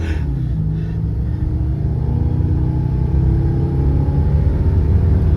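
A 1997 Cougar XR-7 V8 accelerates on rear-wheel drive with its rear end sliding, giving a loud, steady, close engine rumble with a slowly rising pitch throughout.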